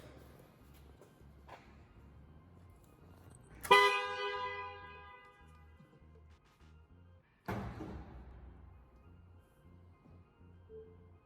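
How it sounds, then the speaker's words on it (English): A 2021 Tesla Model 3 horn blares once, loud and close with a bright tonal buzz, followed a few seconds later by a heavy thud like the trunk shutting. "The horn's gonna honk for a second."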